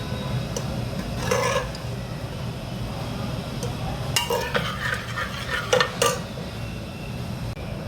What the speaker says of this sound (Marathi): डाळ आपण अशी घोटून घेऊया